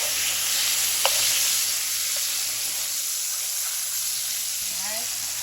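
Floured beef liver frying in a pan makes a steady close sizzle, constant and bright, with a faint clink partway through.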